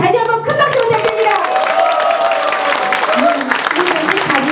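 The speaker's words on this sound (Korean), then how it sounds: "다시 한번 큰 박수 부탁드립니다." An audience at a Korean election campaign launch rally claps steadily throughout, a dense wash of applause with a few voices mixed in, loud and close.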